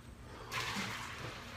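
Someone lowers into ice-cold water in a stock tank used for cold therapy, a sudden broadband wash of water and splashing starting partway in and continuing steadily at moderate level, with no talking.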